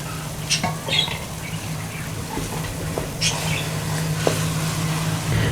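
Onions with garlic ginger paste fry and are stirred in a pot with a little water, giving a soft steady sizzle broken by scattered spoon scrapes and clinks against the metal, with no talk.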